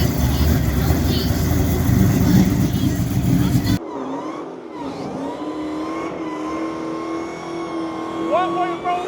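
A stock Dodge Demon 170 roars loudly during burnouts, its engine revving hard for a few seconds before dropping to a quieter, lower rumble. Voices can be heard faintly.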